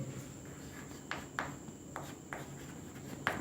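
A teacher writes on a classroom board during a physics lesson, making several short chalk or marker strokes in uneven bursts, fairly close, against a low steady hum with no talking.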